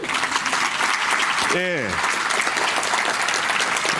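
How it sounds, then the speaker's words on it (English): An audience at a Columbus housing forum breaks into steady, dense applause that fills the whole stretch, with a voice briefly calling out over the clapping partway through. "Please get out a round of applause, y'all"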